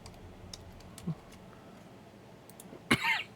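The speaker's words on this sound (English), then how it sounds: "this cough is just nagging" A single sharp cough from someone with a lingering cough after the flu comes near the end, preceded by a softer throat sound, over quiet light clicking like typing.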